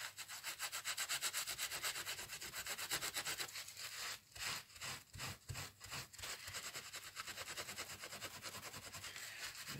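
A rubber stamp being rubbed clean with hand sanitizer gel, giving a continuous close scrubbing sound that turns into a quicker, rhythmic back-and-forth stretch in the middle, no voices.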